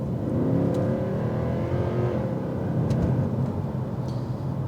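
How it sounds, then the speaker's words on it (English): Mercedes C63 engine and gearbox under load while overtaking a cyclist, the pitch stepping through several quick gear changes in a steady, close interior rumble. "the gearbox not knowing what gear I wanted there. It felt like it changed gear like 3 or 4 times in the course of overtaking that cyclist"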